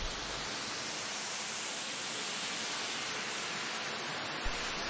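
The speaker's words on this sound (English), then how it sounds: "Now thoroughly rinse the entire roof." Water spray rinsing the fabric roof of a Porsche Carrera 4S convertible makes a steady, loud hiss that stays constant and fills the whole stretch.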